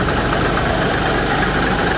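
A twin-turbo combine harvester idling, a loud, steady, close engine rumble with a continuous low throb and slight knocking texture, no voices.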